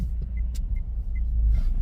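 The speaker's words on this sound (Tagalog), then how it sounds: "wait lang at may darating na sasakyan" A car coming along a road, heard as a steady low engine and tyre rumble that grows slightly louder toward the end, with no talking.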